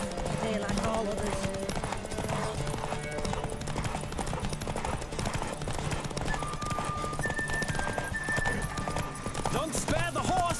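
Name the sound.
horse galloping in the video game The Witcher 3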